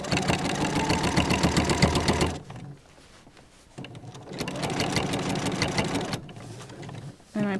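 A sewing machine stitches fabric for an advent calendar in close, steady bursts of rapid mechanical whirring, pausing briefly between runs before starting up again.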